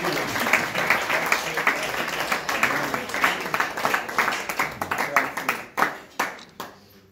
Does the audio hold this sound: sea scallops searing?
no